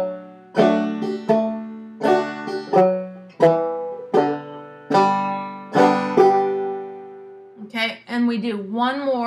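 Clawhammer banjo picking the tune Cornbread and Butterbeans, played slowly with a steady rhythm of plucked, ringing notes that end on an open third string; a voice briefly comes in near the end.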